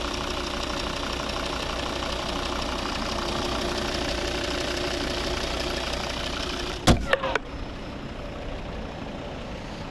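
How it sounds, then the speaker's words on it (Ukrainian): A 2011 Volvo V60 2.0 D3 five-cylinder diesel engine with automatic transmission idles steadily with an even, low rumble, broken near the end by a few sharp clunks. "Дуже класно, рівно тихо працює. П'ятициліндровий, надійний, потужний двигун."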